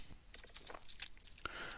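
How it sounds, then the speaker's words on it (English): Quick, close keyboard typing during a programming lecture, a short run of light key taps with a louder click near the end, with faint background noise. "My typing improves gradually."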